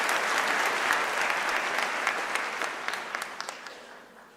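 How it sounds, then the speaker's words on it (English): A large audience at a university autumn graduation ceremony claps in a dense, loud wave that thins into scattered individual claps and fades out over several seconds. "Can we please give her a round of applause?"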